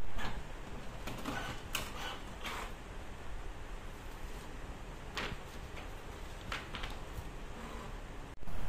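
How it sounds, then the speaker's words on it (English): A Brother DCP-T420W wireless inkjet printer printing a page, a steady mechanical whir with intermittent clicks and ticks of the feed, close and alone. "you can now click print"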